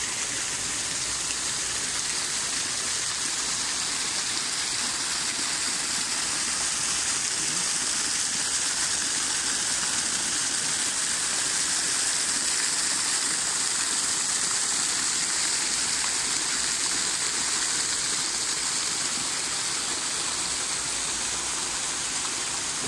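Steady, continuous rush of flowing water at a farm, a dense hiss that stays even and unbroken throughout with no voices over it.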